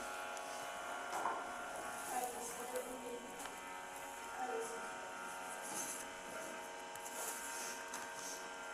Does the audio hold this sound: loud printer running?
yes